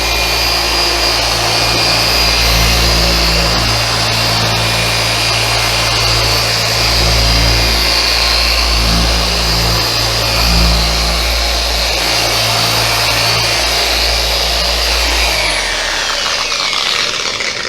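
A machine polisher working polish across the paint of a neglected Jeep Grand Cherokee, a loud continuous motorized whir with a low steady hum and a scrubbing friction texture that holds evenly throughout.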